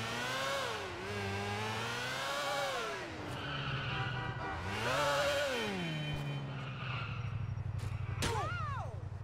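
A motorbike engine in GTA 4 revs and eases off as it rides, its pitch swelling and dipping in several surges, close and steady, with a sharp squeal near the end.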